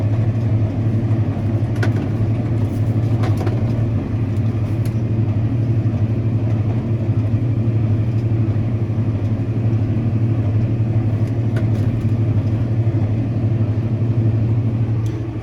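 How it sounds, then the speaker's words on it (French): An old tractor's engine drives a small square baler making straw bales, a steady loud mechanical drone with a constant low hum and no break throughout. "on réduit le régime moteur, on arrête la prise de force"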